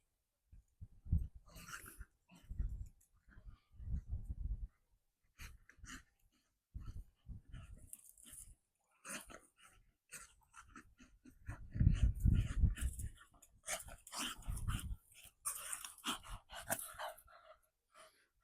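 Bully-breed dogs roughhousing on a nature walk: bursts of growling, huffing breaths and panting come in irregular close-up flurries separated by short quiet gaps.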